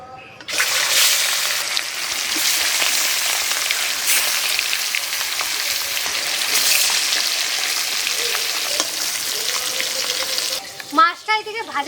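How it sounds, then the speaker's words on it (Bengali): Fish sizzles steadily in hot salted oil, a loud continuous hiss and crackle lasting several seconds before a voice briefly cuts in at the end. "এবার আমি মাছগুলো ভেজে নেব।"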